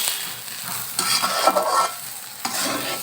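Rice and lentils with salt and turmeric are stirred and fried in a pan, giving a close scraping stir and bright sizzle in two short bursts, no voices.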